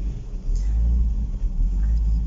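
A 1993 FSO Polonez 1.6 GLE idles in a steady low rumble, heard close from inside the car without any talking.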